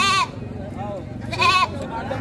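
Goats for sale at a livestock market in Padre Garcia, Batangas, let out two short wavering bleats, with people talking around them amid crowd noise.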